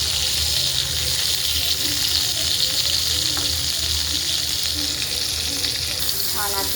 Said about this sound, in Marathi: आपण टमॅटो भाजून घेणार आहे